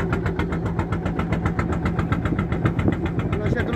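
A large motorboat engine chugs in a rapid, regular pulse at moderate distance as the boat heads out to sea at Carotapera, steady and continuous, with faint talk in the background.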